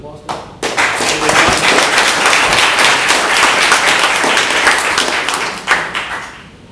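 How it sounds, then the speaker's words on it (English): An audience at a futurists' meetup on the future of health breaks into applause after a question session. Loud, close clapping swells quickly and holds, then thins out, with some voices mixed in. "your round of applause"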